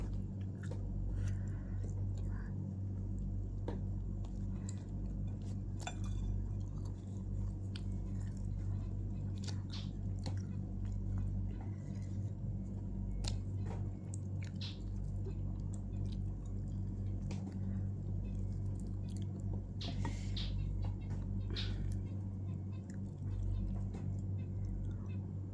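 Close, continuous chewing and biting of cooked meat at breakfast, with soft wet squishing and occasional crunches over a steady low hum, no talking.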